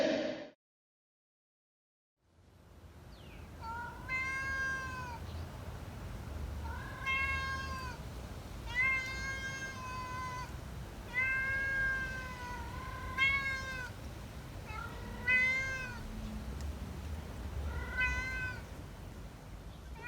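Domestic cat meowing repeatedly, about seven clear rising-falling meows spaced a couple of seconds apart, close and fairly loud over a low background hum, no talking.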